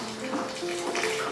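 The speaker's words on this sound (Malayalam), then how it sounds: "ആ വെള്ളം തിളപ്പിച്ച വെള്ളം അതും കൂടെ നമ്മൾ ഇങ്ങനെ ഒഴിച്ചു കൊടുക്കുക കേട്ടോ" Hot boiled water poured into a cooking pot while making sago payasam in a home kitchen, a steady close pouring splash lasting about a second with no talk.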